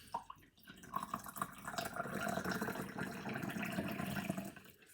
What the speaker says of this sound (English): let me have some hot water.